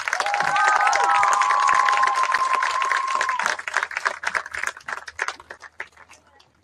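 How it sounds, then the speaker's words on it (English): Crowd at a Groton High School versus Moravia varsity football game claps and cheers for the senior class, loud and sustained with whistles at first, then thinning into scattered claps. "Big round of applause."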